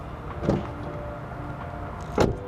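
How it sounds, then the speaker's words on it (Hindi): A 2017 Toyota Prius Alpha G Touring unlocks by keyless entry, giving two short, muffled mechanical clunks roughly two seconds apart against a quiet background hum. "अगर आपके पास की हो और आप गाड़ी के पास जाएंगे तो गाड़ी ऑटोमेटिकली अनलॉक होगी लाइक दिस"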